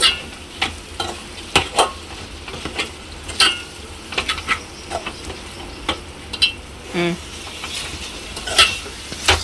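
Onion pieces frying with salt and turmeric are stirred in a pan, giving a steady sizzle broken by repeated scraping strokes and clinks of a utensil against metal, close and fairly loud, with no talking.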